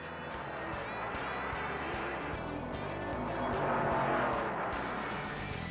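Race car rounding the final turn of a NASCAR-era stock car race, engine roaring steadily and loudly throughout, swelling slightly midway, with faint tire noise and a dense, continuous mechanical drone.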